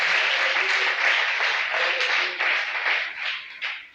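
A church congregation claps together during a worship service, a broad rolling wash of many hands that carries on steadily, with faint voices blending underneath.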